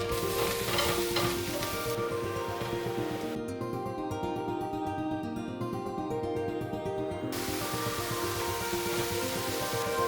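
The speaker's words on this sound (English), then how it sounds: "Start by heating olive oil, then add the mushrooms in stages, the denser ones first." Mushrooms frying in hot olive oil, a steady, close crackling sizzle that continues throughout, partly muffled in the middle stretch, with no talking.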